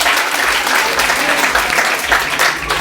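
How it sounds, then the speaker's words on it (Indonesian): A crowd at a stand-up comedy night in a cafe applauds loudly and close by, a dense, continuous roar of clapping with slight swells and no talking. "Tepuk tangan dulu dong buat Bubur Cafe dong"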